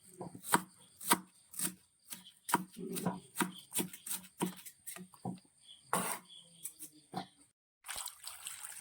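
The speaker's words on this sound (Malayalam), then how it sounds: "സവോള നമുക്ക് ചെറുതായിട്ട് അരിഞ്ഞെടുക്കണേ" Crisp knife chops on a board, finely chopping onion in quick irregular bursts, close and fairly loud, with a short pause near the end.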